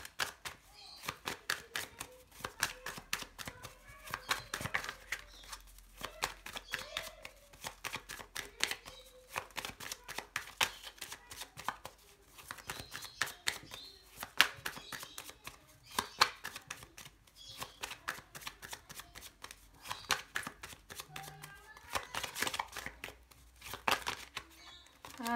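Lenormand cards being shuffled for a card reading, a soft, steady run of quick riffling and flicking taps close by, with occasional quiet speech in between.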